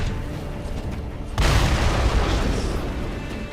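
An explosion in the video game Sekiro lands as a sudden loud boom that cuts in sharply, followed by a dense, rumbling roar that slowly decays across a few seconds of game noise.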